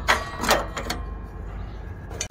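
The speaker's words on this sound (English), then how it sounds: "To remove the brackets, just move them to the side and compress them a little bit and they will pop right out." Plastic battery brackets on an MTD-built riding mower being pushed aside, squeezed and popped free, giving a few close, sharp clicks and snaps in the first second, then quiet handling.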